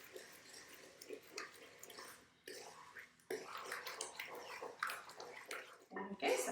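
A spoon stirs egg into sugar and oil in a bowl, giving soft, wet, squishy scraping in irregular bursts at close range, with brief pauses.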